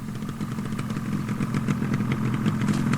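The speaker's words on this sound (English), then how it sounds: "Just then, Peter Fogg arrived on his motorbike." A motorbike arrives as an audio drama sound effect, its engine puttering and clattering steadily louder as it draws near, alone without voices.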